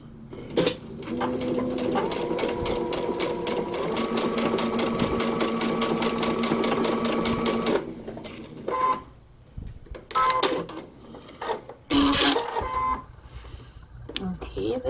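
A sewing machine stitches fabric for a paper-pieced quilt block, a rapid even mechanical chatter for about seven seconds, then a few short bursts of stitching between pauses.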